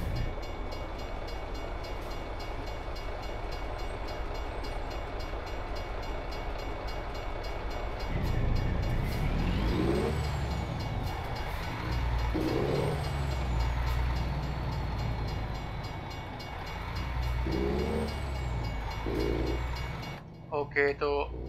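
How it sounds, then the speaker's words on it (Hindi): Freight train rumbles past a truck in American Truck Simulator, a heavy rolling clatter that swells in and keeps rhythmic wheel thumps going over a low engine drone, with a brief sharper burst near the end; someone talks over parts of it. "अब हमारे सामने से ट्रेन जाएगी इधर से।"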